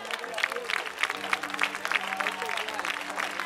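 Congregation applause at an evangelical church service, rhythmic clapping of a crowd with a faint sustained tone underneath, moderately distant and steady for a few seconds.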